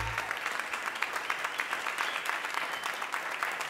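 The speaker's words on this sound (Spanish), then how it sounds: "Fuerte el aplauso." Applause from a TV studio audience in Costa Rica, sustained hand clapping with a fairly even, moderate level that runs steadily throughout without voices.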